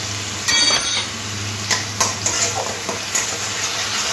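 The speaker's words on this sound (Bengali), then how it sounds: "দিয়ে দেবো অল্প একটু আদা রসুন বাটা।" Ginger garlic paste going into a pan of tomato and onion paste, a steady close sizzle of frying with scattered light stirring clinks and scrapes, with no voices.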